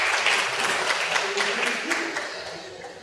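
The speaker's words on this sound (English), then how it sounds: "I think we should give him a round of applause." Audience applause at an MK Party event celebrating the party president's birthday, a dense wash of clapping that fades gradually toward the end, with faint voices mixed in.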